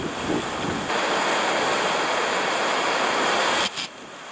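Steady wash of surf breaking on a winter beach beside the marina and canal at Port Fairy, Victoria, loud and continuous with wind rumble across the microphone, easing briefly near the end.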